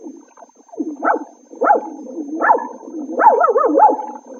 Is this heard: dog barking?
yes